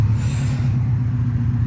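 A Subaru Impreza engine is thrashed hard, a loud, deep, throbbing rumble held steady at close range for a moment, with no voices.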